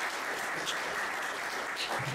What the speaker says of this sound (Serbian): jedan aplauz za ovaj divnog srću